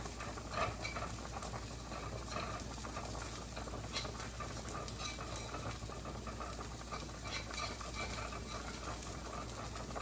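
Flour is whisked into a pan as a thickener for cheeseburger pasta, giving a soft, continuous scraping and stirring sound with a faint sizzle underneath, fairly quiet and steady throughout.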